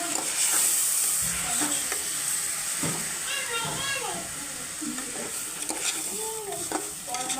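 Rice being stirred in hot tempering in a frying pan: continuous sizzling hiss with repeated scraping stir strokes close by, and a voice speaks briefly over it.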